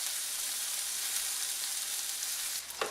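Peppers and onions frying in a pan make a loud, continuous bright sizzle throughout, with a short stir or scrape near the end.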